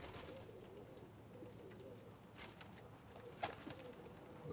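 Pigeons and doves coo softly in a holding pen between breeding seasons, a low steady murmur of several birds with a few brighter calls and rustles, no talking.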